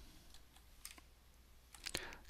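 Quiet computer keyboard typing, a few soft scattered keystrokes followed by a quick cluster of sharper clicks near the end, close and faint.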